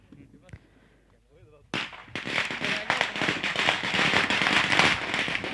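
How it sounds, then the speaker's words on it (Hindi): Fireworks set off in honour of a visiting minister at a local football match, a sharp bang followed by a dense, loud run of crackling firecracker bursts with sparse voices underneath. "तो बिल्कुल उनके सम्मान में आतिशबाजी होती हुई।"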